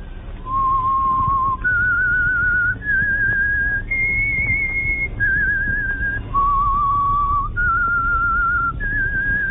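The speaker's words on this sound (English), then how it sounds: "whistle is your signal" A clear, loud whistled theme tune from a 1947 radio drama, sustained notes each held about a second, stepping up and down with no talking.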